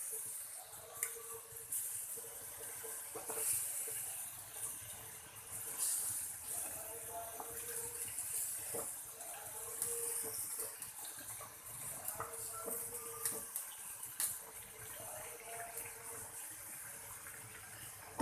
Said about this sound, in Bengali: এখানে আমি আরেকটু পানি দিয়ে দিচ্ছি ঠিক সামান্য এতটা পানি দিয়ে দিলাম